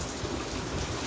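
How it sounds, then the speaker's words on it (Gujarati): Rain falling outdoors at a garden plot, a dense continuous hiss of drops on surfaces, steady and close for a brief moment. "બહાર વરસાદ પડે"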